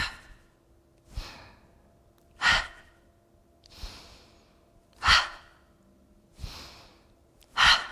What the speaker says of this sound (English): Inhale, squeeze and lift. Exhale, drop.